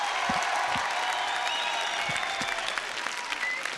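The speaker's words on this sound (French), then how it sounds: "Applaudissements." A crowd applauds steadily, a dense wash of clapping at even volume throughout.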